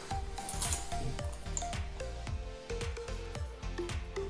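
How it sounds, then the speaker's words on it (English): Eggs being mixed and stirred with salt in a bowl, with rhythmic wet squishing strokes and faint clinks repeating steadily at close range. "And I'll just mix them, destroy them. Stir them together."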